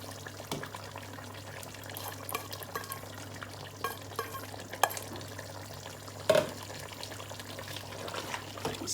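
Desi organic chicken with chopped ginger, whole chilies and coriander being stirred in a pot, soft scraping and gentle sizzling over a steady low hum, with a couple of sharper clanks from the utensil against the pot.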